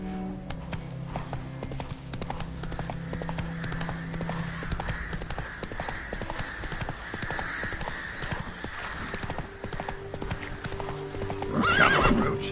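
Roach the horse gallops in The Witcher 3, steady clip-clop hoofbeats running throughout with a whinny near the end, over continuous game ambience.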